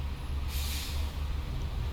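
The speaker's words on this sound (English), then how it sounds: "so this is the bus" A burst of compressed air hisses from a MAN coach bus in club colours, a bright rushing release rising sharply midway over a steady low engine rumble, close and fairly loud.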